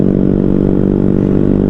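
A Honda Sonic motorcycle engine revving hard and continuously at close range, a loud, steady droning roar with no pauses and no voices.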